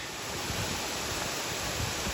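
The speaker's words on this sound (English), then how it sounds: "Nice little waterfall." Small waterfall on a rocky trail in the Maine wilderness, roughly a sixty-foot drop with low flow, giving a steady broadband rushing hiss with no breaks and no voices.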